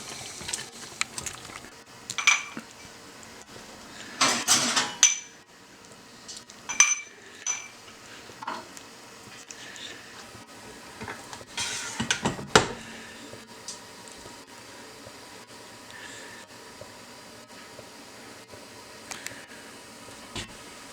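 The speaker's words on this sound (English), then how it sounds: "we're going to ladle this into some warm jelly jars" Hot kiwi jam ladled into warm glass jelly jars, with scattered metal ladle clinks against glass and pot rims, soft pouring and dripping between them, close and quiet, with several louder clatters.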